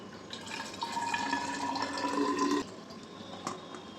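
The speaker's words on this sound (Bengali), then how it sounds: "এইবার আমি এই জলটা এর মধ্যে ঢেলে দেবো" Water pours from a container into a glass for chia seed detox water, a steady splashing fill lasting about two and a half seconds before stopping, with a faint clink afterward.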